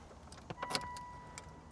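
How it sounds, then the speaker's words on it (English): A key goes into the ignition of a 2008 Aston Martin Vantage, quiet metallic clicks and brief jangling in a cluster, close by in a hushed car interior with a faint steady electronic whine. "You notice you put the key in."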